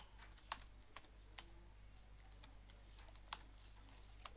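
Quiet, sparse keystrokes on a computer keyboard while entering text in an Excel spreadsheet, with a few louder key taps among soft clicks over a low steady hum.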